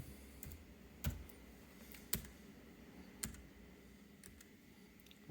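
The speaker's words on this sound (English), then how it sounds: "get a little bit closer to the keyboard so that the microphone just picks up the sound as good as possible" Keystrokes on a Keychron mechanical keyboard, K3 with red optical switches or K1 with blue Gateron switches, picked up close to the mic: a few sparse, sharp clicks about a second apart against a quiet background.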